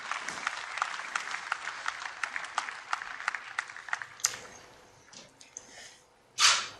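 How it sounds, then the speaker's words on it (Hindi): Applause welcoming Narendra Modi to address a farmers' gathering, with dense clapping for about four seconds that thins into scattered claps and faint rustling near the end. "आइए तालियों की गूंज के साथ आमंत्रित करें माननीय श्री नरेंद्र मोदी जी को"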